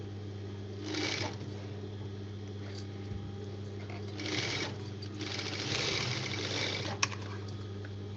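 A sewing machine stitches a folded piece of cloth for a body pavadai, running in steady whirring bursts with brief pauses, close and moderately quiet over a constant low hum.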